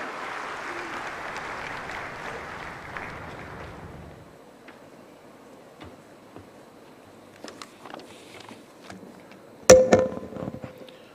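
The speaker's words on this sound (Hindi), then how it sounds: "तालियों के साथ स्वागत करें केंद्रीय रक्षा मंत्री जी का।" Applause greeting the Defence Minister at the inauguration of National Technology Week, a broad wash of clapping that fades out after about four seconds, leaving a quiet room with scattered knocks and a sharp thump near the end.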